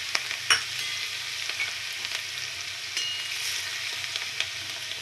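Green chili, garlic and ginger paste sizzles steadily in a hot pan of oil and cumin for a curry, a close, continuous frying crackle with occasional stirring clinks.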